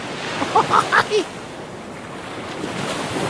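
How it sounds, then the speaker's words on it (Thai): Ocean waves and surf wash in a steady broad roar, with a few short voiced sounds briefly heard early on before the surf continues alone. "เป็นคลิปคลื่นครับ มีแต่คลื่นครับ"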